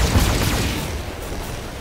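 Mech weapons fire and an explosion in the BattleTech video game, a loud opening volley of rapid gunfire and booms that rolls into a fading rumble.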